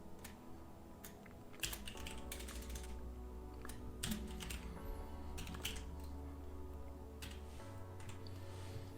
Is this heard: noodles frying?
no